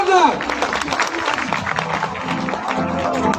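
Audience applause for Surekha madam at a training event in Ahmedabad, loud crowd clapping that carries on for a few seconds while a voice talks over the opening moments.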